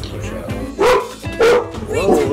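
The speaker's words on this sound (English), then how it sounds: "Now you're barking." A dog barks three times in quick succession, loud and close, with a voice speaking faintly in the background.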